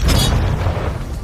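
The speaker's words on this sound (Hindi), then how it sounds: "ये 5 टैंक्स पैसों पर निशाना लगाकर 20 राउंड फायर करने वाले हैं" Tank cannon fires a round at a pile of cash, a loud deep boom with a rumbling tail that fills the whole moment, close and alone.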